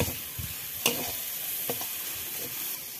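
Food frying in a pan for a fish momo dish, a steady sizzle with a few sharp scraping stirs, close and moderately loud, no voices.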